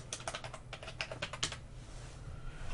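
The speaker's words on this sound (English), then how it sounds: "I'm just gonna type this one in" Fast, steady keystrokes on a computer keyboard, close and clear, a quick run of light clicks that slows and trails off near the end, with no voices over it.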